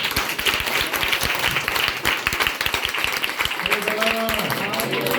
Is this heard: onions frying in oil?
no